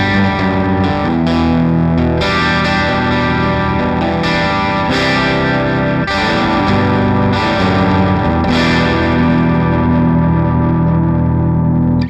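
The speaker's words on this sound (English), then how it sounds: "That's more like an overdriven amp." Electric guitar played through an overdriven amp with the input gain set too high, giving a thick, saturated, distorted tone; chords ring continuously and loudly for about twelve seconds with several fresh strums, alone without talk.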